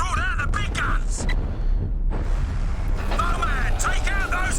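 Heavy booming cannon blasts and explosions from a battle in the game Crysis, with voices shouting over the din and a rising whine as the barrage continues.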